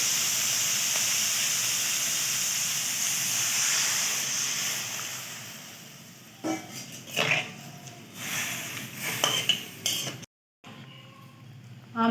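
Water with mustard paste, turmeric, chili powder and salt bubbles in a pot for a tangy small-fish and mango curry, giving a steady, loud hiss. Clinks and knocks of cookware break in later, with a brief silent gap.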